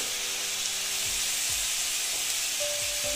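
Cumin, chili and turmeric powders sizzle in a hot pan for a vegetarian ridge gourd curry, a steady bright hiss with a few soft low scrapes of stirring underneath.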